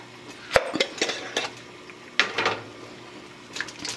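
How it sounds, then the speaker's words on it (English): Sauce dumped into a skillet over medium heat splashes and spatters, with scattered sharp pops and clinks of the pan at close range and no talking. "It's splashing everywhere."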